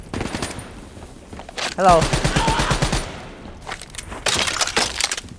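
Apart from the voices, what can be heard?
gunfire in the video game Call of Duty Black Ops 3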